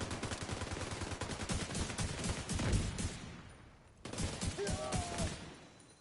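Rapid gunfire in The Division 2 set in Brooklyn, dense bursts of automatic shots rattling close and loud for several seconds, then a brief gap before more shooting resumes, with faint game chatter underneath.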